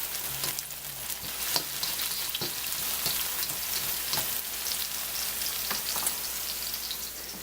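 Pansit noodles with sliced chicken fry in a pan with a dense, continuous sizzle like rain, broken by sharp clicks and scrapes of a utensil, close up with no voices.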